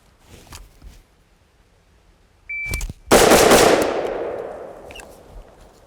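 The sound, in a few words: rifle shots fired in a shooting drill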